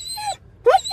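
A dog at the vet cries in two short, high whimpering wails separated by a brief pause, close and fairly loud, with no other sounds around.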